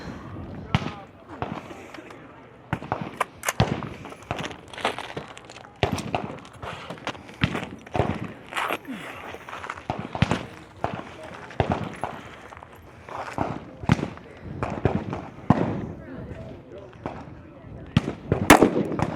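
Rifle shots fired from the prone position through a bottom port during a men's elite regional shooting stage, sharp cracks going off in quick irregular bursts at moderate distance for the whole stretch.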